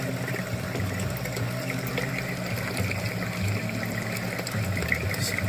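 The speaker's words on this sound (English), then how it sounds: "the gate outlet on the skimmer is actually pushing the water over, so we're kind of getting a little waterfall action here" Water from a DIY aquarium skimmer's gate outlet spilling over like a small waterfall on a 55-gallon Aqueon sump setup, a steady, close rushing and trickling pour with a low mechanical hum beneath, continuous without pause.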